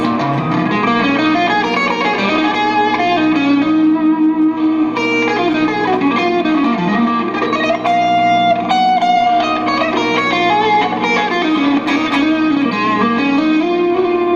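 A distorted electric guitar plays a bluesy, winding minor pentatonic lead line in B with heavy effects and reverb, continuous and loud throughout, no voices.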